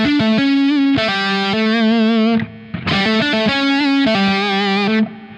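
Electric guitar played through an enhancer-like reverb effect turned up, two loud sustained strummed phrases with a brief gap between, thick and shimmering, close and alone.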